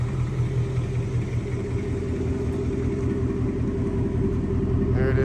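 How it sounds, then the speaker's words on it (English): A Race Red 2019 Ford Mustang GT with an X-pipe exhaust idles close by, a deep steady rumbling burble that stays even throughout, with no talking. "So nice deep tone to that exhaust with the X pipe on it"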